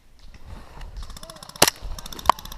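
A couple of sharp airsoft gun shots crack out during an outdoor airsoft round, one louder pop followed by a second shot, with faint background rustle and a brief voice.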